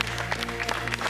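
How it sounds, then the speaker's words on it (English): A round of applause from a studio audience on a cooking competition set, steady dense clapping for about a second over a low background hum. "Give Ray a round of applause, guys."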